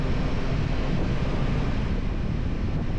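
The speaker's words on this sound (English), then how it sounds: "We've got a really blustery day today." Blustery wind roaring across a rider on a Yamaha Tracer 9 GT motorcycle, a loud, steady, low-heavy buffeting that fills the whole stretch without a break and with no talking.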